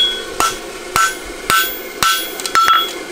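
Hammer blows on a steel horseshoe over an anvil, flattening it during farrier shoemaking: six sharp metallic strikes at a steady, roughly half-second rhythm, close and loud, with ringing overtones.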